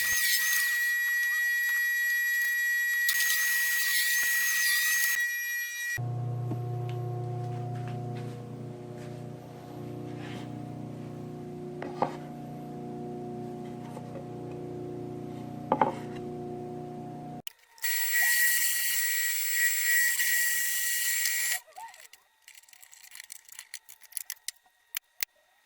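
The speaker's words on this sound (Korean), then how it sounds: "전면 패널에 홈 가공을 합니다." A speaker front panel is machined, starting with a high-pitched whining cutter, then a steadier lower motor hum with a few sharp clicks, before the high whine returns and ends in short bursts.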